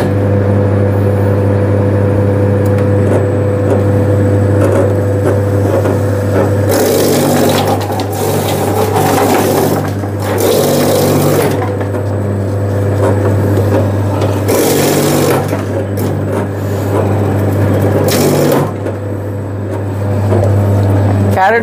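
A leafy vegetable cutting machine, model LC60, runs with a steady loud motor hum, broken by repeated bursts of chopping as vegetables such as carrots are fed through; no one speaks.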